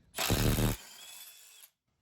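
A close 12-volt Milwaukee Fuel 1/4-inch cordless impact driver whirs briefly with a rapid hammering rattle, then spins down to a lighter whine before stopping, while replacing a rear shock.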